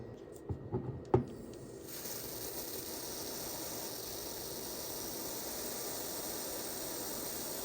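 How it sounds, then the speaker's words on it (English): A steady broadband hiss of aerosol freeze spray, cooling a capacitor, runs continuously after a few brief clicks and taps at the start, fairly loud and unbroken. "Now I'm going to go ahead and cool it down with this freeze-it spray here"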